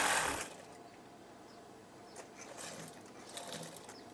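A sewing machine stitching a folded fabric curtain rope, a faint steady mechanical whir with soft rhythmic ticking from the needle, close by after a brief louder burst at the start.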